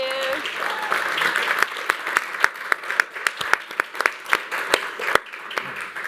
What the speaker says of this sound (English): let's give them a warm round of applause to welcome them